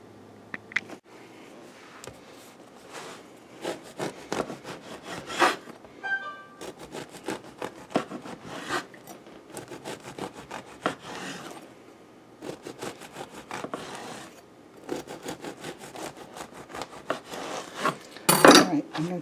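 Bread is sliced with a knife, giving repeated rasping sawing strokes in bursts with brief pauses between loaves of cuts, close and fairly crisp, ending with a louder scrape near the end.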